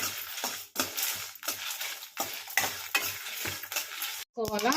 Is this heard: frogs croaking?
no